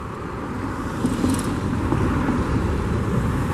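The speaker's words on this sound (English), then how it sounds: "The traffic is just too heavy to make a video today." Heavy road traffic near the St Lucia Estuary: a continuous roar of cars passing nearby, with engine and tyre noise swelling slightly after the first second and staying dense and steady, no talking.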